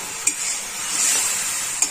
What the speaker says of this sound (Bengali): হলুদটা আস্তে আস্তে একটুখানি ভেজে নেব।